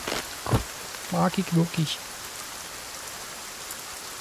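Steady rain falls in the survival video game Sons of the Forest, a constant soft hiss of rainfall filling the scene, with someone talking briefly over it early on.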